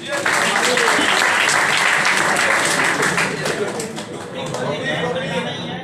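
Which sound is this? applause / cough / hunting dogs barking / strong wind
applause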